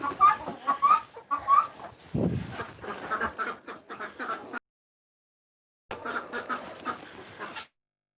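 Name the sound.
ducks quacking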